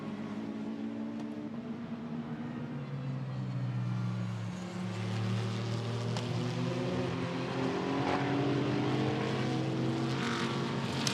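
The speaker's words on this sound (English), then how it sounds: "Number 80 KTM going through." A KTM GT2 race car on the Barcelona circuit during a 2024 GT2 Europe race roars past with a loud engine whose pitch rises and falls as it shifts through a corner, a continuous strong drone over about eleven seconds.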